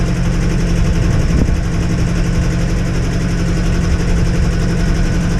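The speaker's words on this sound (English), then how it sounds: "I can't wait to turn the friggin' engine off" Boat engine running at low speed on a slow passage, a loud, close, steady chugging drone with a rapid even beat throughout.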